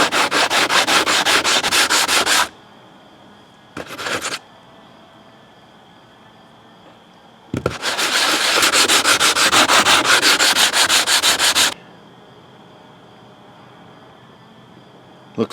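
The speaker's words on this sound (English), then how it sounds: "step one, we're going to use 100 grit silicon carbide. Take off some of the marks that were left by" A nickeline rock is hand sanded on 100 grit silicon carbide, giving loud, steady rhythmic scraping strokes in two long runs with a short burst between them and quiet pauses.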